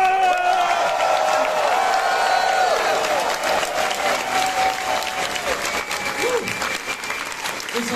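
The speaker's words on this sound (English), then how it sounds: "crowd, make some noise one more time." At a furry convention dance battle final, a crowd applauds and cheers loudly and steadily, with scattered whoops over dense clapping. Loud voices call out above the noise, and the applause fades slightly toward the end.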